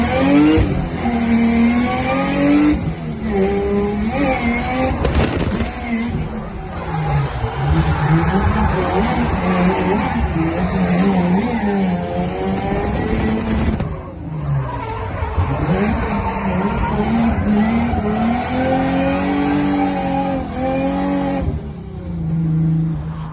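A tuned car at a drift day, heard from inside the cabin as the engine revs hard and repeatedly and the tires skid and squeal, loud and continuous with rising and falling pitch.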